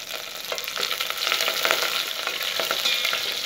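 Close, continuous sizzle of hot oil in a sambar tempering with dried red chilies, curry leaves and coriander roots. The crackling frying stays dense and even throughout, with light stirring scrapes.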